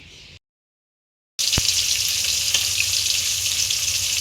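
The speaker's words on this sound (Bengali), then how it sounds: "এই যে বন্ধুরা মাছ ভাজছি" Fish frying in hot oil gives a steady, loud sizzle that starts abruptly after a brief silence and then continues evenly with a faint crackle throughout.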